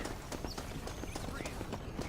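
Horse hooves in the video game Red Dead Redemption clip-clop in a steady, quick rhythm, close and continuous over low rumbling ambience.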